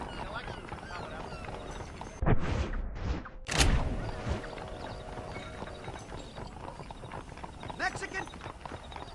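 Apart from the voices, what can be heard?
horse galloping in video game Red Dead Redemption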